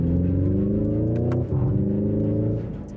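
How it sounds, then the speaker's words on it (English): Hyundai IONIQ 5 N electric car, a 650-horsepower EV, playing its synthetic engine sound: a steady droning engine note with a brief dip like a fake gear shift, then resuming before fading slightly, heard from inside the cabin. "with fake gear shifts and a sound generator. It even hits the limiter."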